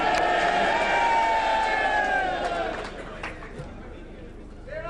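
Crowd at a political rally in Pakistan chanting slogans, loud and sustained at first with a tonal chanted line, then fading into murmuring chatter.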